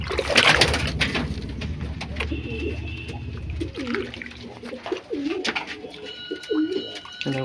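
Fancy pigeons inside their loft coo repeatedly while being given water, with soft, low throaty calls in an uneven rhythm over light rustling and water sounds.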